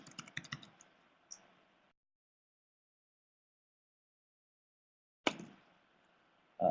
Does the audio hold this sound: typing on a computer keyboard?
yes